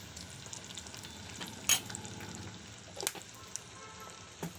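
Ingredients for gongura dal curry frying on low heat in a pan, a continuous soft sizzle with a few sharp scraping stirs and clinks of a spoon, no talking.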